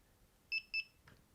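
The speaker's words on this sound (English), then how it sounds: "So turn the alarm off, turn it back on" A Delkim carp-fishing bite alarm gives two short, bright electronic beeps in quick succession as it powers back on, followed by a faint click, with no talk.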